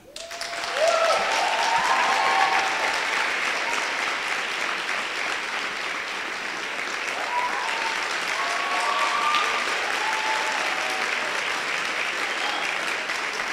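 An audience at a children's parliament event applauds trophy winners, sustained clapping swelling in quickly and holding steady for over ten seconds, with faint tonal sounds and murmurs mixed in.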